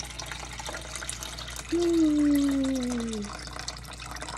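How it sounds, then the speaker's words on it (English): Starchy water is poured off food into a sink, giving a short gurgling, splashing pour of about a second and a half, with a tonal whine sliding downward and a brief exclamation from a voice. "Now I'm going to pour some more off."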